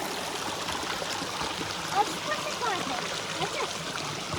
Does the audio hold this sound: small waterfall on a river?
yes